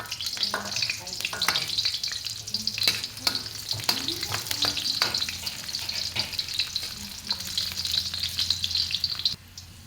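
Garlic frying in rendered pork fat in a pan for squash sauté, a steady close sizzle and crackle with intermittent stirring scrapes throughout, no voices.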